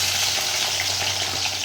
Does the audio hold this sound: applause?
no